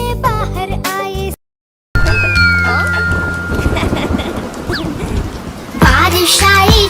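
A rain-and-thunder sound effect in a children's rhyme about summer rain: bright musical tones give way to a broad rumbling crash and steady rain-like hiss, with the music returning loudly at the end.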